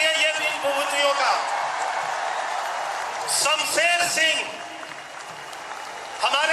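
Audience applause welcomes Olympic hockey athletes at a felicitation ceremony, steady dense clapping with some whoops running throughout while an announcer's amplified voice calls names over it.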